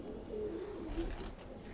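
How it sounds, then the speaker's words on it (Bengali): Bangladeshi local high-flying pigeons give soft, low cooing, a few drawn-out murmurs in a steady, faint run with no talk. "এই দামে এই কোয়ালিটির কবুতর আপনারা পাবেন না"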